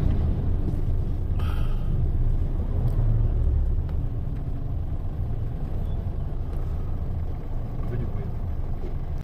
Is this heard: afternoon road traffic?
yes